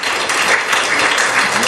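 A church congregation claps together to encourage children during a worship service, steady dense applause filling the space without a break and with no talking over it.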